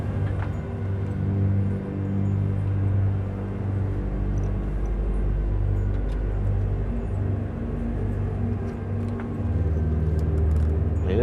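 A timber truck rolls over ruts on a winter road, a heavy low engine rumble throughout, with the drone swelling and easing and faint knocks and rattles from the load and cab.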